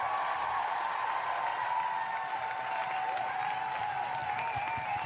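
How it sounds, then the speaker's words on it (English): Studio audience applause at the opening of a talk show, a dense steady wash of clapping and crowd noise lasting several seconds at moderate level with no speech over it. "I have to shorten that applause"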